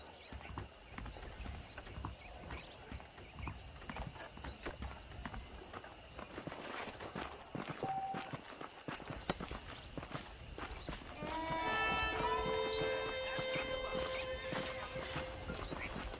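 Horses' hooves clip-clop in steady walking rhythm in Red Dead Redemption, the saddled horses moving close by over a busy ambient background, with a brighter tonal layer joining toward the end.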